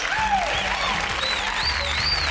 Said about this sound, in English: Let's give them a round of applause and let's get ready to rumble!